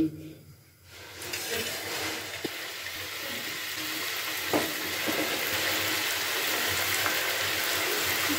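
Sweet potato puli pitha drop into hot oil in a wok, then a steady broadband sizzle of frying builds and holds, close and fairly loud, with a few light clinks.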